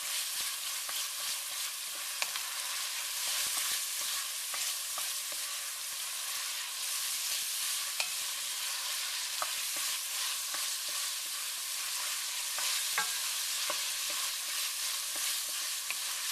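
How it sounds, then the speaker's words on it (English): Tomato paste stirred in a pan for ribollita soup, a constant bright frying sizzle throughout, with a spoon occasionally scraping and tapping the bottom, close and steady with no voices. "I'm going to stir this around, and if there's any little bits on the bottom of the pan, I'm going to scrape them up with my spoon"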